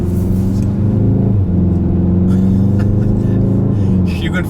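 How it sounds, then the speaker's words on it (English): A 2019 VW Golf R Mk7.5 accelerates hard around a roundabout, its engine making a loud, steady interior drone with a rising rumble and a brief dip midway. "just powering around the roundabout here"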